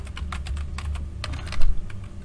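Fingers type text on a computer keyboard, producing a quick, close run of clicking keystrokes with short pauses and a slightly louder cluster near the end.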